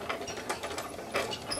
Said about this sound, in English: We're ready to crank her back and let her go.